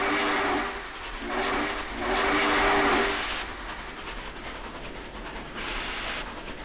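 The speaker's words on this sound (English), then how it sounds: "the whistle's blowing" Steam locomotive whistle blowing in bursts over a running train, with a choir-like tinny tone; loud blasts in the first three seconds, then steadier rolling rail noise.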